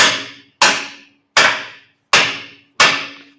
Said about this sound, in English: hitting the headstock with a hammer to see if it would move